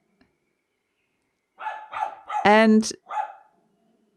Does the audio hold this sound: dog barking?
yes